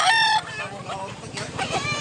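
A White Kelso rooster crows at close range, the strong call strongest at the start, then trailing into a second rise, with a rhythmic low pulsing underneath.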